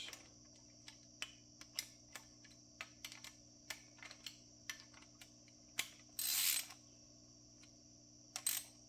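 A socket ratchet snugs down 12 mm manifold bolts on a Briggs & Stratton 18hp V-Twin generator, producing a series of sharp, close clicks at an uneven, fairly regular pace. One longer, louder burst of metallic rattling comes near the end, and no one speaks.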